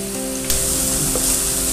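Salted onions sauté in a pan for chicken tikka masala, a short, steady close sizzle over a low background hum, with a single utensil tap partway through.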